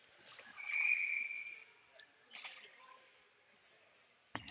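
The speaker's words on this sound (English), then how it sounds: "The whistle blows." A referee's whistle at a boys' varsity high school hockey game sounds one sustained shrill blast, clear over arena noise and crowd murmur.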